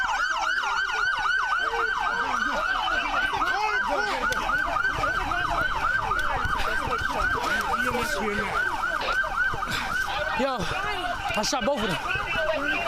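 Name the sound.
police car sirens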